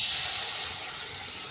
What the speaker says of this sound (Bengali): আমি কড়াইতে দিয়ে দিচ্ছি জল